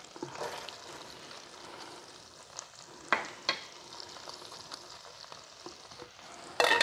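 Chopped green onions sautéing in butter in a pan, a steady low sizzle with a few sharp clinks and scrapes of a utensil, close up, ending with a louder burst of frying.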